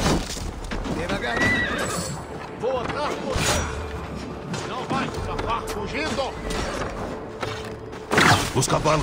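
Horses neigh and whinny repeatedly with clip-clop hooves in Assassin's Creed Valhalla during the Siege of Paris, mixed with voices and battle clatter.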